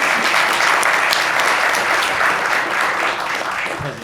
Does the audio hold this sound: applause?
yes